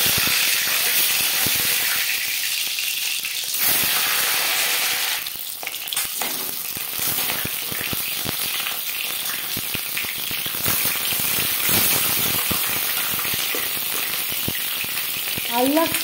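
Food sizzles in three spoons of hot refined oil with a loud, continuous frying hiss, sharp spattering crackles and occasional stirring scrapes. No voices are heard over it.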